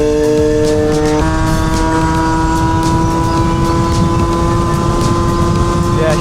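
A scooter engine fitted with a Stage 6 overrange kit screams at high, sustained revs, its pitch stepping up early then holding, close and loud with wind buffeting throughout.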